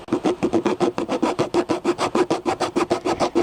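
A hand saw cuts through coloring pencils in quick, even back-and-forth strokes, about six per second, close and crisp.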